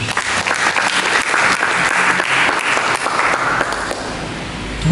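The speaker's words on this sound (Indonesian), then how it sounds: "Mari kita berikan tepuk tangan kepada Yesus" A church congregation bursts into sustained applause during a sermon, a full, even wash of clapping hands lasting throughout, near and fairly loud, with no one speaking.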